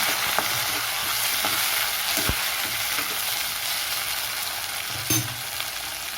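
Tomatoes sautéing in a pan for egg fried rice give a steady, close sizzle with a few soft stirring knocks and scrapes, and no talking.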